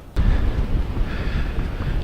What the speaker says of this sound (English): we have some real gusting wind coming at me here